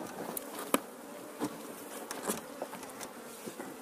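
Bees from a swarm that has grown quickly in a nucleus hive box, buzzing steadily at close range, with a few sharper taps and bumps scattered through the drone.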